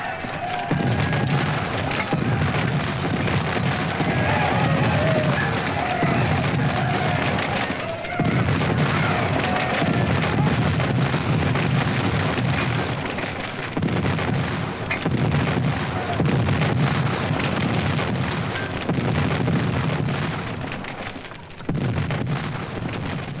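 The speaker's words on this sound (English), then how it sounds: "the crack of muskets," Cannon and musket fire from a Gettysburg battle film, heavy booms and cracks repeating every few seconds over a constant roaring din of battle.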